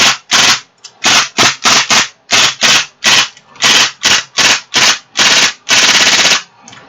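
An M11 fires on full auto in loud, close bursts, a rapid string of about a dozen short sharp volleys with brief gaps, ending in one longer sustained burst.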